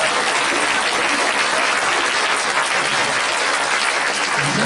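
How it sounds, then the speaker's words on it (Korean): Church congregation applauding their pastor during a Sunday afternoon service, a steady, dense wall of clapping from many hands that holds evenly loud for the whole stretch. "위대한 일을 하고 계시는데 담임 목사님이라고 박수 안 치나요?"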